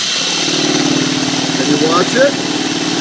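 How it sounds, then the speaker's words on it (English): A drill turning a 1-inch paddle bit into a hole during a PowerMags installation, heard as a steady, close motor whine with a low harmonic hum running throughout while someone talks over it. "Then you go ahead and drill your hole."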